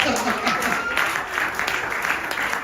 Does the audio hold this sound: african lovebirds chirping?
no